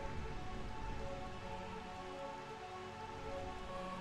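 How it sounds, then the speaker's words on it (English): Steady rain falls in Burmecia, the realm of eternal rain in Final Fantasy IX, a faint, even wash of drops with no pauses and no voices. "The realm of eternal rain."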